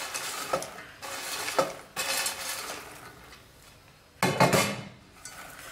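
Popcorn being stirred into a chocolate coating in a bowl, with bursts of scraping and clattering at irregular intervals and quieter rustling between them.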